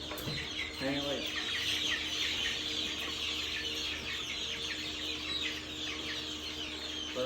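Dense flock of over a hundred poultry, chickens among ducks and turkeys, clucking and chirping continuously and fairly close, a busy overlapping chorus with brief low thumps and a voice faintly underneath.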